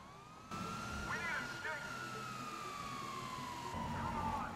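Police car siren in the video game GTA 5, a steady wailing tone sliding slowly down in pitch over engine and traffic noise, with someone talking over it.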